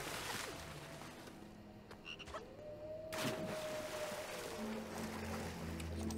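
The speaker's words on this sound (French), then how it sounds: "Messieurs les grenouilles, ou mesdames les grenouilles, l'un comme l'autre, je m'en tape." Frogs croaking in the LEGO Harry Potter video game, a steady chorus of low croaks layered over ambient game water and background tones, moderately loud and continuous with no talking.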